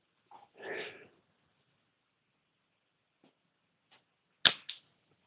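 A slingshot shot strikes a tin can: one sharp, loud metallic bang with a short ringing rattle, preceded by a softer rustling thwack and a few faint ticks in otherwise quiet surroundings.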